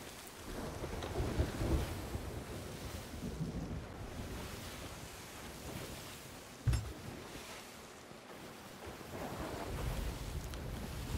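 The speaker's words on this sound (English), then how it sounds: "Alright, the rain is starting." Rain begins falling in a video game, a faint, wide wash of rainfall and wind with a soft thunder-like rumble and one brief knock near the end, and no voices.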